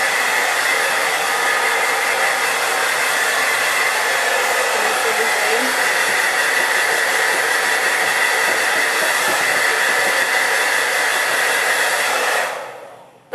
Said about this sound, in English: I turn my blow dryer on high heat